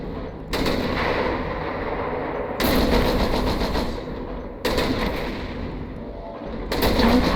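AC-10 autocannons on a Stone Rhino mech in MechWarrior Online fire in four loud, sharp bursts about two seconds apart, each volley ringing out and fading into a low rumbling tail.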